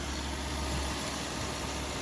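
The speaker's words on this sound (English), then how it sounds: "Idles really low, super quiet. Sounds great." A 2005 Cadillac DeVille engine idles low and quiet, a soft steady hum with a faint mechanical whir, heard up close with no talking.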